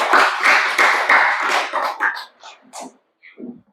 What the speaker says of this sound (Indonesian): Beri tepuk tangan buat kelompok 4.